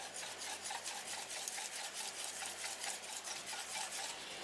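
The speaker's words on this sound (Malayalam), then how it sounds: "മുട്ടയും അരിപ്പൊടി കൂടി നന്നായിട്ട് ഇങ്ങനെ മിക്സായിട്ട് നല്ല സോഫ്റ്റായിട്ട് വരും മാവ്" Egg and rice flour batter beaten hard in a bowl, a fast, regular rhythm of scraping, slapping strokes repeating about three times a second, close and steady with no voice.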